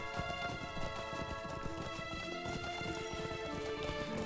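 Horse hooves gallop steadily in Lord of the Rings Online, a quick, even clip-clop over a continuous bed of orchestral game music, with no talking.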